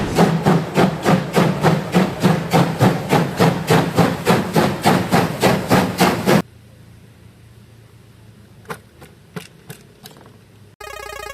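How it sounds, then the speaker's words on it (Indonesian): A steam locomotive chuffs in a fast, even rhythm of loud, regular beats, then cuts abruptly to a quiet stretch broken by a few sharp clanks and a final mechanical burst. "Wow, kereta uap."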